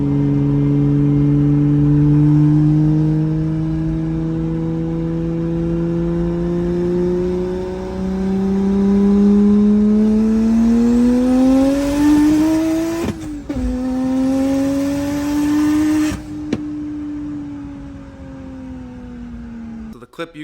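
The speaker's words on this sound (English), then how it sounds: "The clip you guys just saw was a low boost pull, 24 PSI" A single-turbo N54 car making about 700 wheel horsepower pulls hard at 24 PSI of low boost. The loud engine note climbs steadily through the revs, breaks briefly at a shift, then pulls again before backing off, heard from inside the car.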